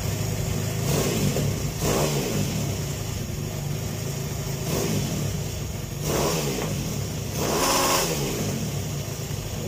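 A 140cc Mini MX Drift engine runs loud and close, with a steady raspy idle punctuated by several sharp throttle blips and revs.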